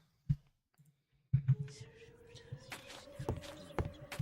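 Loud computer keyboard keys clicking during a Minecraft stream, a few sharp isolated clacks followed by scattered clicks under a soft steady hum.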